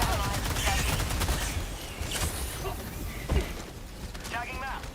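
Autocannon fire in Helldivers 2 on a bug outpost mission, a dense stretch of heavy rapid shots mixed with game noise and chirps, fairly loud and continuous throughout.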